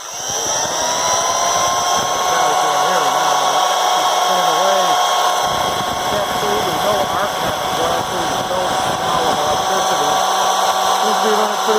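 Electrolux Assistant stand mixer motor running after a capacitor replacement, a loud steady high whine with a rough, rattling undertone, close by; a person's voice is also audible.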